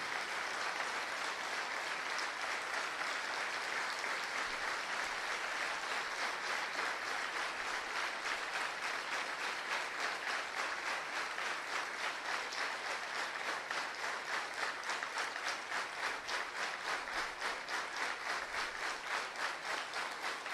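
A lecture audience gives long, sustained applause, with loud, dense clapping that holds steady for about twenty seconds and gradually settles into a faintly rhythmic pattern.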